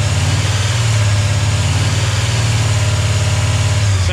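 A brand-new 450 hp 351 Cleveland V8 engine runs steadily at a rough idle on its first start-up, its deep low rumble loud and continuous throughout, with a slight rise near the end.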